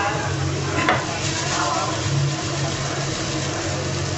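Thinly sliced ginger and garlic sauté in a little oil, giving a steady low sizzle close by, with a brief clatter of stirring near the start.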